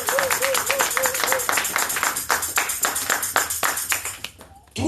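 A church congregation claps rhythmically in quick, even beats, with a voice briefly audible near the start, before the claps fade out at the end.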